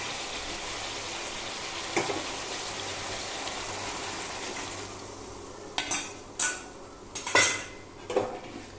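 Chili chicken is stirred in a pan, a soft frying sizzle underneath. Then comes a burst of sharp metal scrapes and clinks from a utensil against the pan, several quick knocks near the end, with no speech.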